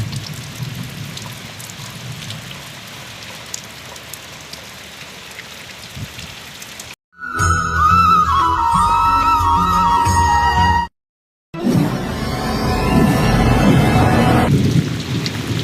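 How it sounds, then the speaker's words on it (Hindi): Steady rain with deep rolling thunder during a storm in Jharsuguda district, Odisha, the downpour hissing loudly throughout and briefly cutting out before resuming just as heavily. "मध्यम धरण घड़घड़ी सहित वर्षा होगला"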